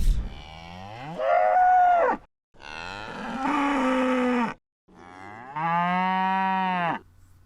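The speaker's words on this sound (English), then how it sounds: "These cattle calls may sound similar, but they come from different cows in different situations." Three long, loud moos from cattle, each call rising and holding for about a second or more with short silent gaps between, close and clear with no other voices.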